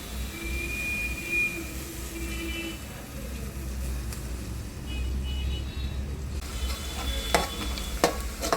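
Chopped onions fry in oil in a pan, a continuous sizzling hiss with occasional stirring scrapes and a few sharper clinks toward the end, over a low background rumble.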